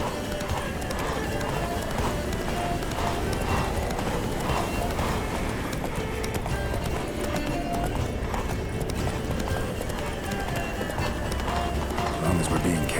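Roach the horse gallops in The Witcher 3, with a steady rapid clip-clop of hooves under continuous speech and game sound, loud and close throughout.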